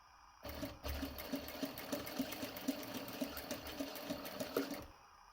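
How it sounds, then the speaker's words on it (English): Sewing machine stitching around a folded-over fabric edge for a paper bag pocket, a steady rhythmic needle clatter running for about four seconds at moderate, close volume, with no voices. "I'm just going to stitch around the edge that you folded over"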